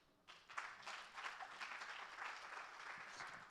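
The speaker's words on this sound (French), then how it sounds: "on les applaudit." Audience applauding at a keynote on the future of Africa for the Africa 2020 season, a clear burst of clapping that swells quickly and sustains evenly to the end.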